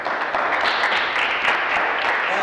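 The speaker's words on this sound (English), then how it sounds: "Round of applause, please, people." Crowd applause at a live talk show fills the room, a thick, continuous patter of many hands held at a steady loudness from start to finish.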